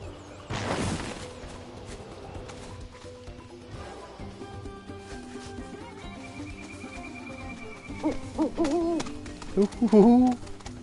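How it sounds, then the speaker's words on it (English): A screech owl hoots in the Gongaga area of Final Fantasy VII Rebirth, a few short calls near the end over a soft ambient game backdrop with a brief whoosh early on. "there's a screech owl there"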